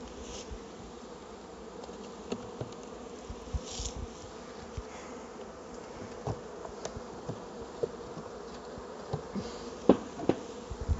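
A honeybee colony hums in a steady, close buzz while the hive is being closed up, with scattered light knocks and clicks of handling the hive parts over the drone.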